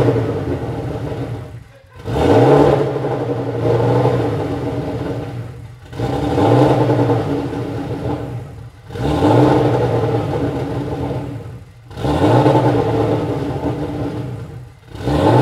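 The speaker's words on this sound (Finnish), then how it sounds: "nyt siis kokeilen käyttää konetta tuossa wasted spark moodissa" A turbocharged BMW M50/M52 inline-six running roughly in wasted spark mode, with a mis-set idle valve. It revs and falls back in four loud, close, repeating cycles, clattering and rumbling, with no talking.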